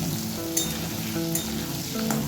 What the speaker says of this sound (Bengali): আলুটাকে আমি একটু লাল লাল করেই ভাজবো